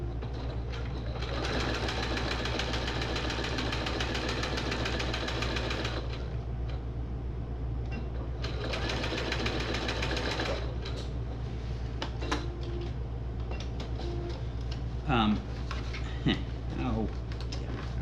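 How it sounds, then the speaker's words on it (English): A sewing machine stitches a fishing rod tube cover in two long, rapid mechanical bursts separated by a pause, followed by scattered clicks and handling noises. "So, let's sew this here."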